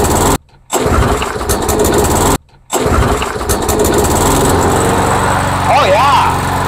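An old, trashed lawn mower engine is pulled twice with short cutoffs, then catches and runs steadily at a loud, close idle; a voice briefly speaks near the end.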